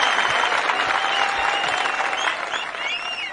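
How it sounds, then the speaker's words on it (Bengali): An audience breaks into loud, continuous applause, many hands clapping close and dense, easing slightly toward the end while whistles and cheers rise over it. "জোরে তালি হবে।"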